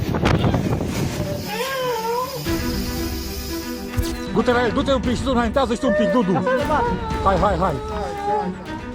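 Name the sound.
cat meowing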